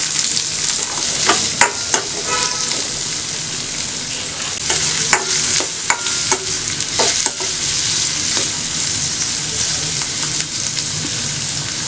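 Chopped onion and three garlic cloves sauté in a pan for brinjal chutney, a loud continuous sizzle broken by sharp scrapes and taps of a stirring spoon.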